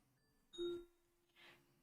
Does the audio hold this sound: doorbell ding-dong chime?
yes